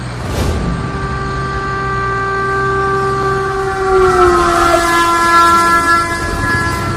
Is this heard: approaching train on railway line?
yes